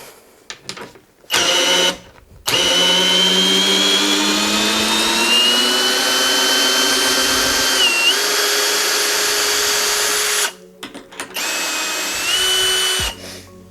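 A Vitals Professional AU 1860Pbt BS SmartLine cordless drill-driver whines loudly while backing out a screw, starting in short bursts, then running steadily for several seconds, its pitch dipping under load before it stops and restarts briefly.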